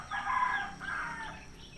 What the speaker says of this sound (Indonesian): Karena di sini banyak sekali ada ternak, khususnya ayam